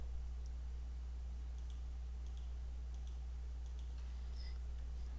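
Computer mouse clicks at a desk, a scattering of faint, sharp, close ticks over a steady low electrical hum, with no talking.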